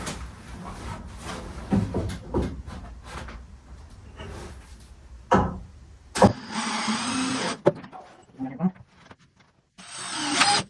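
Screws being driven during a carport build come through as bursts of a whirring power driver mixed with knocks and handling clatter, with someone talking at times.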